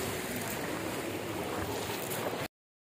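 Sea waves heard from a boat off Dingalan, Aurora, a steady, loud wash of water and surf close by with no voices, lasting about two and a half seconds before cutting to silence.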